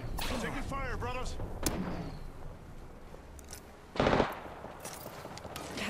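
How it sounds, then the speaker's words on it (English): Automatic weapon fire in the battle royale Apex Legends: bursts of rapid shots crackle at moderate distance, with one louder close burst near the end, while a voice talks faintly over the action. "Taking fire, brothers."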